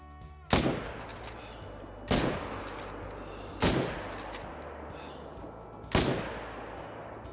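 Four sharp rifle reports ring out at roughly one-to-two-second intervals while hunting bears in the video game Call of the Wild, each crack followed by a fading echo over a low steady background.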